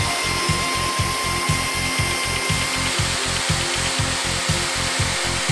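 A woodworking machine drills wood with an end mill, a rapid, regular pulsing thrum and a high whine above it, steady and close, with no talking.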